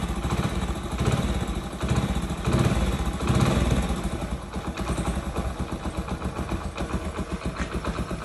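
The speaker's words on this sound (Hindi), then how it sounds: "थोड़ा इंजन हीट होएगा ना सही रहेगा।" A Hero Splendor motorcycle engine idles while warming up, a close, steady, rhythmic mid-pitched chug with slight clatter and small swells in loudness.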